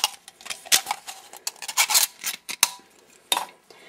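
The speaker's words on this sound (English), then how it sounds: "you should be able to just peel the rest of the can away" A blade prying and peeling the thin metal wall of a can along a score line, close up, in a series of scraping, crinkling bursts and clicks with brief pauses between.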